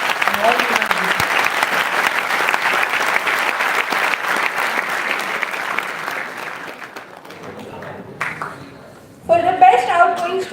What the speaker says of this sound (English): let us all give a huge round of applause to all the participants who have tirelessly participated in all the events this year